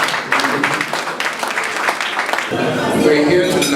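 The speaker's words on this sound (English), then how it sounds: "So please, a round of applause for Carlo" Steady audience applause fills a dinner hall at a send-forth dinner in Abuja, dense and continuous clapping that grows slightly fuller toward the end, with people talking beneath it.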